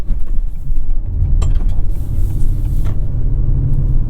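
A 2022 Acura RDX engine pulls hard toward redline with a loud, steady low rumble inside the cabin, a brief shift break near the middle, then continues droning without talk.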